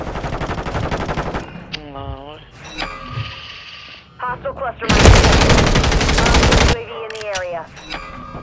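A light machine gun fires in Call of Duty: Modern Warfare 3. The loud sustained burst is mixed with other game sounds, and players talk around it.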